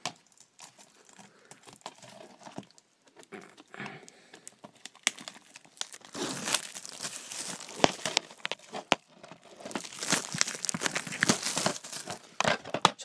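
Plastic wrap is torn and peeled off DVD cases, a run of crinkling and crackling that starts soft and grows louder and denser in the second half, close by and with no talking.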